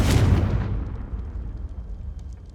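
A Confringo blasting spell explodes in Hogwarts Legacy with one loud, close boom that hits at once, then fades into a long rumbling tail.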